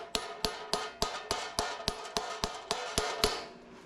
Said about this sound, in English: See how the hammer bounced back easy?